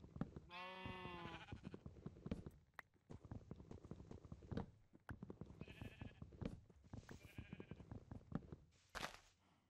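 Sheep in the Minecraft video game give a clear synthetic bleat early on, then quieter bleats later, among clicking footsteps and hoof-like clops.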